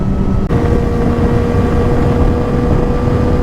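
A 600 cc motorcycle rides along and leans through a turn, a steady, loud engine drone with rushing wind noise running throughout, and a brief dip in level near the start.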